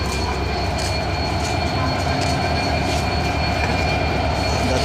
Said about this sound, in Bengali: এখন এইমাত্র ট্রেন রওনা দিল, আস্তে আস্তে টানতেছে।